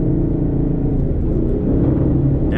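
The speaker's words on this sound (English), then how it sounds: "Downshifts, baby." A naturally aspirated 5.0 Ford Mustang rumbles loudly and steadily from inside the car as the engine downshifts, with a deep continuous drone and no voices.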